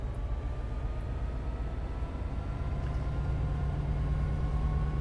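Steady low diesel drone of an F59PH locomotive engine running at notch 4 in Train Sim World, a constant rumbling hum with a faint tonal whine above it, continuous and even throughout.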